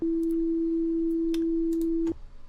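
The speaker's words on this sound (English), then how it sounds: "So when I play a note now," A steady, pure electronic tone holds at one pitch for about two seconds, then cuts off abruptly, leaving faint background hiss.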